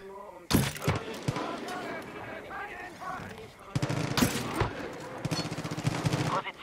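Gunfire bursts in the video game Far Cry 5, with sharp shots and rapid volleys separated by a quieter stretch, while a voice talks over parts of it.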